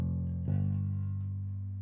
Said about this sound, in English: Plain bass plays throughout the whole beat.